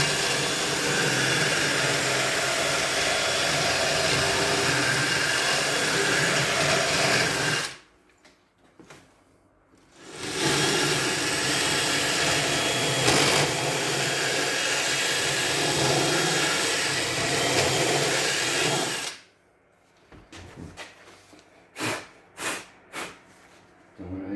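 A steady, harsh grinding whine from beveling a welded steel piece on a steering intermediate shaft, loud and close, cut by a short pause midway, then ending in a few short bursts.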